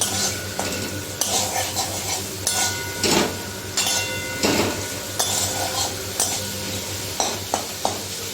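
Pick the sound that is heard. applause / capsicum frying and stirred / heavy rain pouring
capsicum frying and stirred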